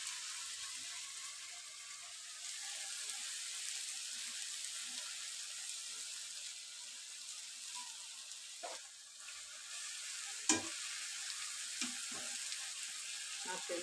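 Fry pieces for biryani simmering on a low flame as the water cooks off, a soft steady sizzle close by with a few faint clinks and knocks, no talking.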